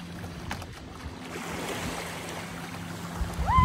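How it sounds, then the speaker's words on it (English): Steady wind buffets outdoors on a Maldives island with a broad rushing roar, joined by a rumble of water or surf, growing slightly louder toward the end. "But it's very windy. It's pretty windy"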